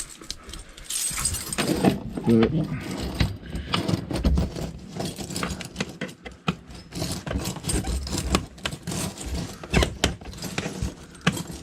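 A keyring carrying a knife jangles and clinks in bursts beside a car dash being worked on, with metallic rattles and handling noises and a brief spoken word.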